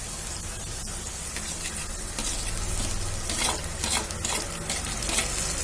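Onions and tomatoes fry in a pan for macaroni pasta, giving a loud, continuous close sizzle with stirring scrapes that swell slightly toward the end. No one speaks.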